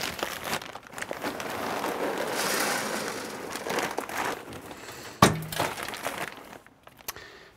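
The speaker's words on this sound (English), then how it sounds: "I'm gonna drop in some pellets" Dry wood pellets pour into the hopper of a Yoder Smokers pellet grill, rattling and crackling densely for several seconds, then tapering into scattered clicks and one sharp knock near the end.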